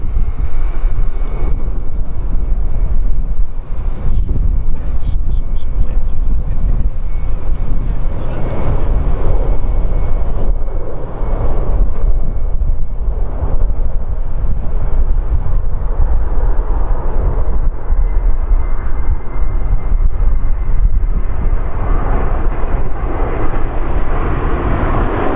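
A large Airbus airliner flies past at the Farnborough Airshow 2016, its engines a loud, sustained roar that swells and holds for the whole stretch, with faint voices in the background.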